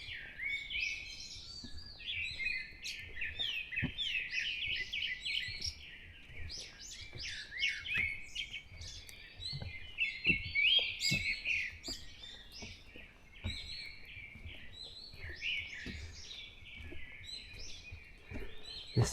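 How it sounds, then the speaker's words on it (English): Wild birds sing in the morning, with several species overlapping in dense, continuous chirps, trills and whistles. The calls are fairly close, with soft low background noise underneath and no talking. "There's something so relaxing about the sound of the birds, and just like the variety of species, and each bird has their own unique call"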